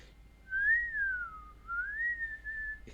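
A person whistles alone, imitating a scary prison whistle: one long sliding tone that rises, dips low, then climbs again and holds, clear and close against near silence.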